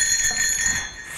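Bright, steady jingling of small bells rings continuously for about a second at a moderate level, with no voices alongside.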